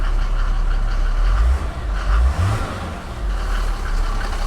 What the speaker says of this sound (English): Has that signature diesel sound.